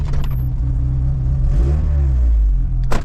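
A Vauxhall Cavalier's C20XE engine idles and revs with a loud, close rumble, carrying a faint light ticking from the top end.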